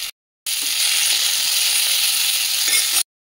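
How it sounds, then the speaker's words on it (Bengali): Cauliflower florets fry lightly in oil in a kadai, making a loud, even, close-up sizzle that starts abruptly and holds steady for a few seconds before cutting off, with no speech. "এরপর এটাকে আমি হালকা ফ্রাই করে নেব।"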